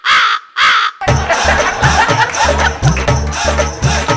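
Two harsh crow caws ring out up close on a comedy show set, then give way to a busy stretch of music with a steady thumping beat.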